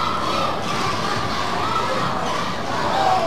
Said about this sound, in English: the crowd is getting pretty wild